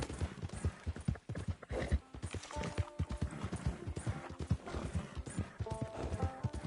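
Horse hooves clip-clop in a steady rhythm through a Red Dead Redemption 2 game scene, with an occasional whinny rising over the plodding steps, all fairly close and moderately loud with no talk.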